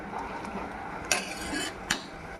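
A metal spoon scrapes and knocks against a pot as a rava mixture is stirred while it boils, with a soft continuous stirring texture broken by two sharper clinks against the pot rim.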